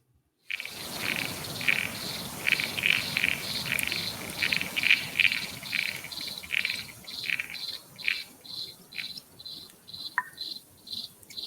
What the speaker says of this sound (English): I also record this other speedfoot toad